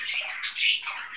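A kakariki parrot gives short, harsh squawks in an indoor bird room, close and fairly faint, three quick bursts in about a second.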